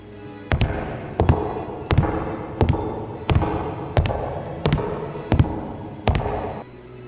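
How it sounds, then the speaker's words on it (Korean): Men's hard-heeled dress shoes click in an even walking rhythm, about ten sharp echoing steps in a reverberant hall leading toward a restroom, loud and close with no voices. "구두 소리가 저 멀리 홀에서부터 울리는가 싶더니 화장실 안쪽으로 이어지더랍니다."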